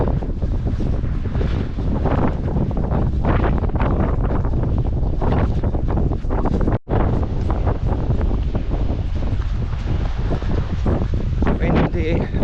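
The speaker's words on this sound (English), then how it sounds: "Windy, windy, windy." Heavy wind buffets the microphone in a loud, constant roar with gusty low rumbling during a coastal run, lasting the whole time.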